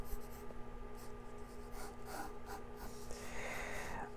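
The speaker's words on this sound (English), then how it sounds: "I'm going to draw his eyes like this." Pencil or marker scratches and strokes across paper as a simple face is drawn, with short faint rubbing marks repeating in quick bursts, close and quiet with no talking.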